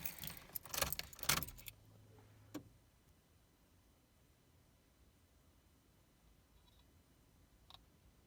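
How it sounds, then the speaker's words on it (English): Key turning in the ignition of a Nissan S15 to switch on accessories, a burst of jangling, clicking keys up close followed by a brief click, then a quiet idle-free hush with a faint tick near the end. "I'm going to turn the key and just turn the accessories on"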